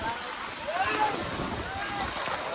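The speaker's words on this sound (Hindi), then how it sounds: "ऊपर से तेज आंधी आ रही है, बारिश आ रही है बहुत तेज" Heavy rain and strong gusting wind roar steadily over an outdoor Dussehra festival market, a dense unbroken wash of noise with faint voices blending into the storm.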